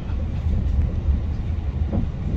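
A TransPennine Express train hauled by Class 68 locomotive 68020 rumbles along steadily at a constant, fairly loud level. Its low, continuous roar comes with faint rail noise and no talk.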